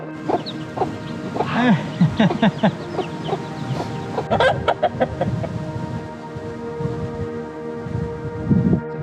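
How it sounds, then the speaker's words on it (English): Chickens clucking at a rest stop with a chicken enclosure along a walking route, a mix of repeated clucks and short calls from several birds, fairly close and moderately loud, with outdoor background hum and no talking. "Hang out with the chickens."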